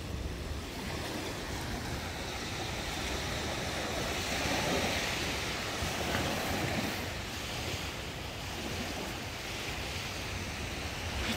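Surf rolling onto the shore in Pohang, South Korea, a steady broadband roar of breaking waves that swells and recedes over several seconds, with wind noise and no voices.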